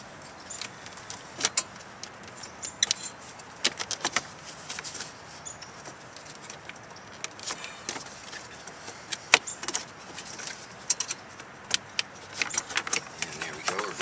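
Plastic clicks and rattles sound in close, irregular bursts as the lower dash panel of a Honda Civic is wiggled loose, with quieter handling noise between them.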